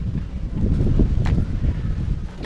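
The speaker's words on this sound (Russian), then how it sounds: "Смотрите, там листья, сдувает ветер." Gusty wind rumbles steadily across the microphone at the Angkor temple complex in Cambodia, with a faint rustle of leaves in the background and no one speaking.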